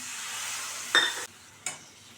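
Tamarind water poured into sautéed chili and turmeric masala for an okra kuzhambu gives a sharp sizzling burst over steady frying hiss, then a second shorter splash-sizzle moments later.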